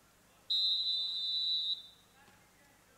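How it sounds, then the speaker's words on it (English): A referee's whistle at an NCAA men's college basketball game between Colgate and Army West Point, one sharp sustained blast lasting just over a second, then faint arena murmur. "The whistle is blown, and Swapshire fakes the pass to Amiel"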